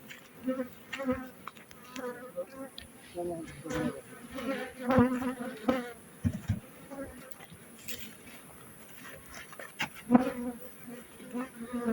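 Bees around log beehives, a continuous buzzing of many insects close by, rising and falling in loudness, with people talking over it.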